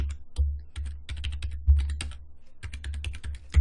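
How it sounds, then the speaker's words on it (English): A password typed on a computer keyboard at an ESXi login, a quick close-up burst of key clicks with brief pauses between clusters and no voice. "I'm going to type in that user's password"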